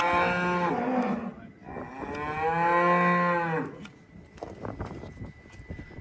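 Cows moo loudly and repeatedly in long, drawn-out calls, close by, with wind and outdoor noise around them.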